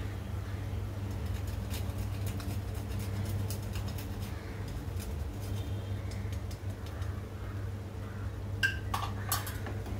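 Metal utensil scraping and clinking in a pan while jaggery filling with nutmeg is stirred for modak, soft irregular taps and scrapes over a steady low hum, a few sharper clinks near the end, no talking.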